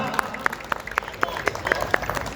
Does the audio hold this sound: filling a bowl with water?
no